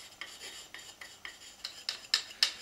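A tool is drawn across a coarse sharpening stone in short, even rasping strokes, about ten in quick succession. The strokes grow slightly louder and sharper toward the end.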